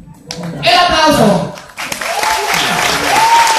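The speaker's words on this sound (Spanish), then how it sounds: "¡El aplauso!" Audience applause greets a bolero performance at a live music show, a dense burst of clapping joined by cheers and voices, rising fast and holding steady to the end.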